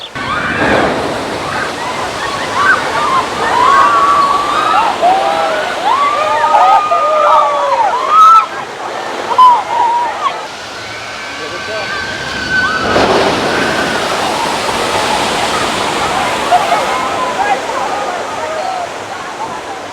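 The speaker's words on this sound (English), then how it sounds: "Oh, it's a Jurassic Park water ride." Rushing, splashing water roars loudly throughout, with people talking and calling out over the churn of the Jurassic Park water ride at Universal Orlando.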